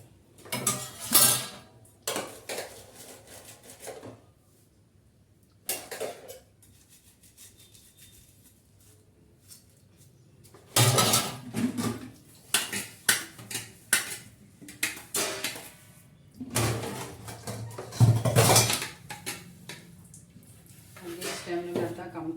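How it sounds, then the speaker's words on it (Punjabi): Pots, plates and cutlery clatter and scrape in irregular bursts as dishes are scrubbed and washed by hand in a village home, with pauses between and people talking nearby. "ਆਪਾਂ ਹੁਣ ਭਾਂਡੇ ਮਾਜ ਲਈਏ"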